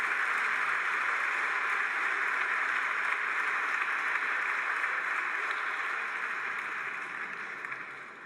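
A large crowd applauds in the grand amphitheatre of the Sorbonne during a university graduation ceremony, with sustained, evenly blended clapping that fills the hall and then gradually fades toward the end.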